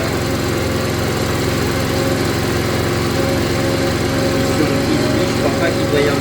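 A motorcycle engine, started in winter without the choke, runs at a steady close idle with an even rapid chugging pulse and mechanical rattle throughout, with speech faintly over it.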